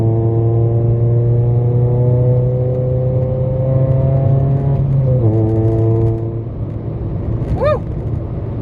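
A little old Honda car with stock suspension accelerates hard, its engine note climbing steadily in a loud close whine, dropping briefly at a shift, then fading into road rumble with a short squeal.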